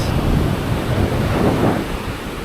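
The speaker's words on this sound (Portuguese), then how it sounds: "Mas tá gostoso aí o barulhinho do mar." Sea waves washing onto a beach at Jurerê in Florianópolis, a steady broadband roar of surf mixed with wind buffeting the microphone, continuous and fairly loud.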